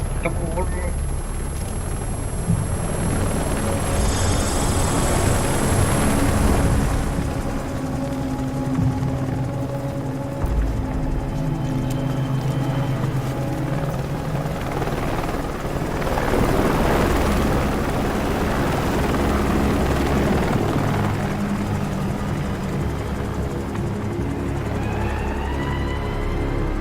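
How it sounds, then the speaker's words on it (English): A helicopter in modded Red Dead Redemption 2 drones with a steady rotor and engine hum that swells and fades over nearly half a minute, loud and continuous beneath intermittent game sounds. "Helicopter."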